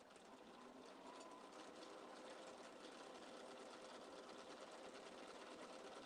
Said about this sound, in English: my sewing machine definitely needs oil again. It's gone all rattly